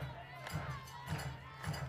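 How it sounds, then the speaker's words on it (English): Crowd at a college softball game between South Carolina and Mississippi State, a rhythmic chanting and clapping roar that swells in regular pulses, heard from a distance as a steady wash. "You hear the crowd starting to get back into it"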